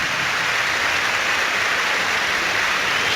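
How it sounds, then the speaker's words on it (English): Away and home football fans applauding as a player is substituted during a Manchester United versus VfL Wolfsburg Champions League match, a dense, steady wash of distant stadium clapping and crowd noise with no talk. "Schweinsteiger getting rich applause from the Wolfsburg away support."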